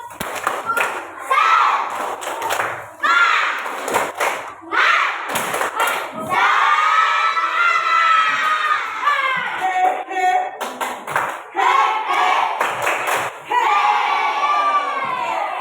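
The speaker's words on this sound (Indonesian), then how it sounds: "Tepuk semangat." A class of fifth-grade schoolchildren performs a rhythmic spirit clap in an Indonesian school, loud clustered claps and thumps alternating with excited shouting and cheering voices for about fifteen seconds.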